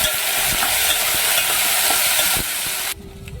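Potato masala curry with brinjal being stirred in a pan, a steady loud sizzle with scraping stirs in the first part, then the sound drops away abruptly near the end; no voices.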